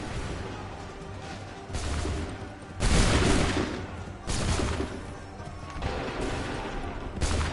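Musket volleys in Assassin's Creed III Remastered, several loud booming bursts of gunfire spaced a second or so apart over a low rumbling battle backdrop.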